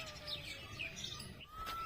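Sparrows chirp and tweet in quick, bright bursts over a steady outdoor hum, fairly close, with no talking.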